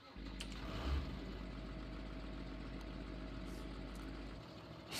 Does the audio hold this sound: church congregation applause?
no